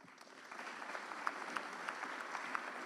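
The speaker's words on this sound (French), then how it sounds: "sous vos applaudissements" Applause at the opening of an aviation summit, a soft, fairly distant patter of clapping that builds gradually and holds steady, with a few sharper claps standing out.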